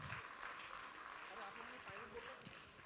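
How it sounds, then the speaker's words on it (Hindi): Loud audience applause for the performers at the 23rd Falgun Festival 2019, a continuous broadband clatter of many hands with crowd voices mixed in throughout. "एक बार जोरदार तालियां इन सभी के लिए।"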